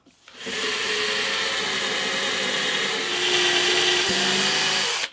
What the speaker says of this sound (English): I'm just going to drill a couple of register holes.